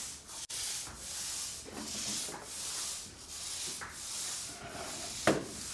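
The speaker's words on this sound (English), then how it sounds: "So this coating that they're putting on now" A concrete floor coating is applied in a garage with rhythmic scraping and rubbing strokes that rise and fall in regular sweeps, moderately quiet and close, with a few soft knocks between passes.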